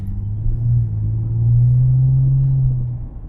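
A Lexus GS300 engine idles steadily after a repair, giving a loud, close, low rumble that swells slightly in the middle and then eases off, with no talking.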